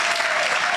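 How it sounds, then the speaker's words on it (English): Luncheon audience applauding, a brief, dense burst of continuous clapping heard alone. "So give Ray a big hand of applause"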